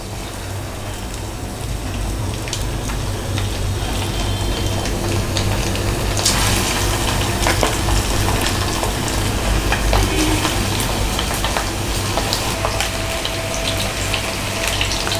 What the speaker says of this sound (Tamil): நம்ம எல்லா சிக்கனையும் ஃப்ரை பண்ணி தனியாக எடுத்து வச்சுக்கலாம்